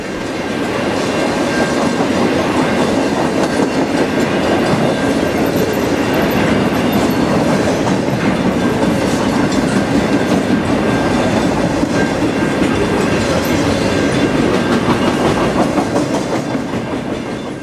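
A circus train rumbles past at close range, loud and steady, with continuous clickety-clack of wheels over rail joints and faint squeals throughout.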